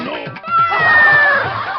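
A cat meowing in a drawn-out, rising and falling cry, loud and close, preceded by a few short sounds.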